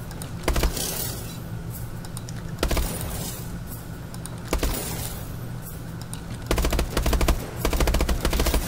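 Automatic gunfire rattles in a Call of Duty: Advanced Warfare training mission, rapid bursts of close shots with brief pauses between volleys, over a low steady game background hum.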